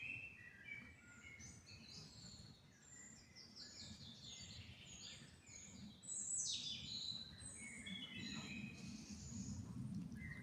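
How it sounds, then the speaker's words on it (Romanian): Several forest birds sing and chirp together, their high bright calls overlapping in quick phrases. A louder burst of song rises partway through over a soft rustling background. "Acum păsările."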